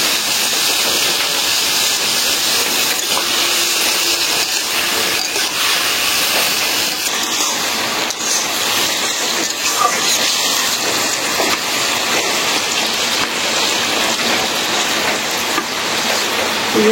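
Potatoes and raw onion frying in a pan give off a loud, steady hiss of sizzling that runs on without a break, with no voices over it.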